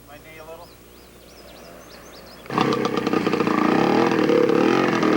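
A 1969 Greaves motorcycle on a dual sport trail ride starts quietly with birdsong and a faint idle, then its engine bursts into a loud, rough, sustained running note close by.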